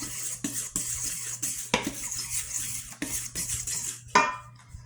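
Yeast being stirred into flour in a bowl for homemade baguettes: a steady run of close scraping and light clinking strokes with short pauses, and no talking.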